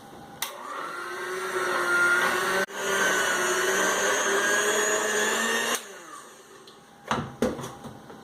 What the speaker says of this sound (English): with the mixer, we're going to mix it with the batter